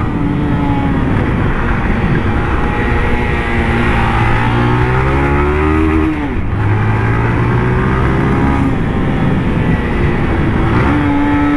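A newly bought motorcycle's engine drones loudly and close throughout, its pitch rising and falling as the throttle shifts while it rides along.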